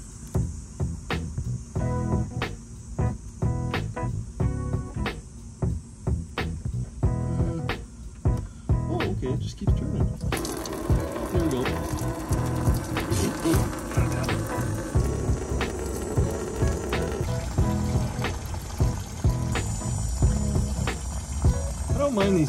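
Coolant drains from the radiator petcock of a Colorado/Canyon truck, a continuous close liquid splatter and gurgle, with tool clicks and handling noises mixed in.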